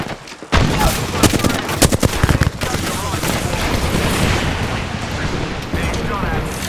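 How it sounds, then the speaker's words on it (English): Dense bursts of gunfire from an Apex Legends match in Kings Canyon, sharp rapid volleys up close in the first few seconds, followed by continuous crackling combat noise and distant shots. "Being shot at."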